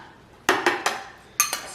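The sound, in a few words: stirring Sriracha spicy mayo mix in a bowl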